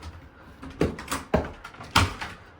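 A door opens with a few soft thuds and a rattly scrape, close by, in a quiet room with no talking.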